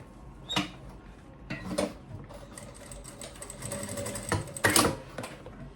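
A sewing machine runs short bursts of stitching along a seam of an insulated lunch bag, its rapid mechanical whir starting and stopping several times, close and fairly quiet with faint handling noises between runs.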